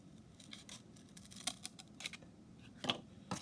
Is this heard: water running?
no